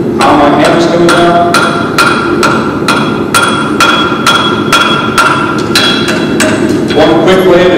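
A farrier's steel hammer strikes a horseshoe while clinching, a loud, fast, steady run of sharp metallic blows close by with no talk.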